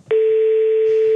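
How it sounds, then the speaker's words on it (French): A telephone line gives a steady, unbroken dial tone that starts abruptly and holds at a constant loud level, with no voices over it. "Ah, au téléphone."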